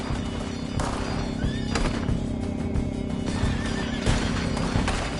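Several horses in the video game Red Dead Redemption 2 whinny and neigh over clip-clopping hooves and a busy background, the calls repeating loudly through the scene.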